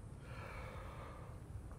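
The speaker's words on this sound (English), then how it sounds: "hearing me yawn is contagious and it makes you yawn" A person yawns close by: one long, breathy, drawn-out exhale that stays soft and quiet from start to end.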